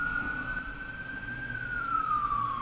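A single ambulance siren wails steadily at moderate distance, its tone gliding slightly up and then down as it passes over light background rumble.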